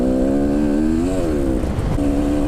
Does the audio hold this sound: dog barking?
no